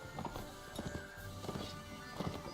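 Horse hooves clop in an uneven galloping rhythm during a battle in Mount & Blade Warband, fairly faint under busy ambient game noise, with a few sharper thuds.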